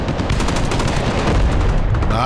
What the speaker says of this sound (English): let's go ahead and call a mortar fire strike right over here